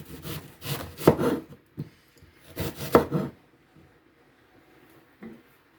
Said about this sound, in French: je vais commencer par découper mon oignon